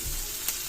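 Vegetables for lumpia togue being stirred in a hot pan, a brief steady sizzle with a small scrape of the utensil partway through.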